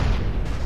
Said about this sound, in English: A fucking explosion.